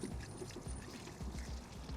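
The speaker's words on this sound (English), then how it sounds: "take a jug of warm water, and I'm going to start pouring it just like this" Warm water poured from a jug onto a car battery makes a steady, close splashing and gurgling pour that runs continuously and quietly.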